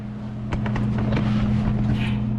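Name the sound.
Jeep Wrangler 4.0 engine starting with catback exhaust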